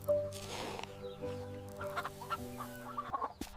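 Laying hens cluck in a countryside chicken yard, several birds close by making repeated short, uneven clucks with no talk.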